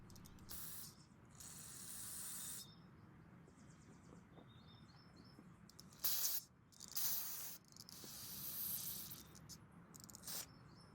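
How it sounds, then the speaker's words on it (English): Carb cleaner sprayed onto the carburetor of an Earthquake auger gives several loud, hissing bursts of varying length, separated by short pauses, with no talking. "we can then remove it and start spraying carb cleaner all over it."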